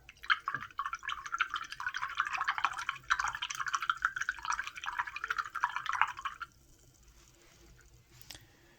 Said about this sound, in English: Wash this brush out here.